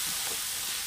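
Cooked peas and carrots sizzle steadily in a hot pan for upma, a close, continuous frying hiss with no talk over it.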